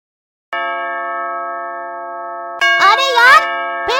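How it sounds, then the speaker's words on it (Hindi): A cartoon doorbell ring: a sustained electronic chime tone, loud and clear, overlapped midway by an animated character's voice and then a second chime. "फिर आज सुबह कौन घंटी बजा रहा है?"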